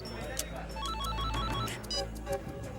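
A telephone rings repeatedly indoors under music and a tense, dramatic scene, with the ring tones fairly faint in the mix.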